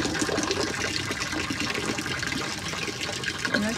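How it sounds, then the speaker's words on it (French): Water runs continuously from a small public drinking fountain in Geneva, a close, steady splashing trickle with faint street ambience behind it. "Et à Genève, vous avez plein de petites fontaines comme ça, où l'eau est potable."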